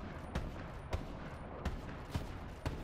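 Gunfire in the shooter game Borderlands 3, a handful of sharp, evenly spaced shots about half a second apart over a dense, steady background rumble.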